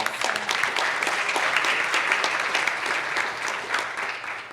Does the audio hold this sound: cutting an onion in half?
no